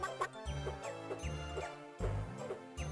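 Chickens clucking in the video game Synthetic Man, a few short repeated clucks with a regular bouncy rhythm, fairly quiet and heard alone without talk.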